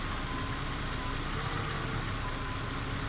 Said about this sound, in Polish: Oczywiście na pracującym silniku.